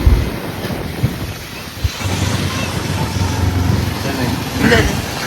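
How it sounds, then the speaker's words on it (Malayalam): Sea waves wash onto the shore in a loud, continuous rush mixed with gusty wind buffeting the microphone, with faint voices underneath. "ഇതാ കടൽ"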